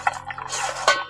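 A metal pressure cooker, used for popping corn kernels, is set back on the stovetop: a short cluster of clanks and scrapes of metal on metal, close and fairly loud, with no talking.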